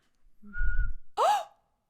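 A sharp breath is followed by a short, rising-and-falling whistle, close and clear, then silence.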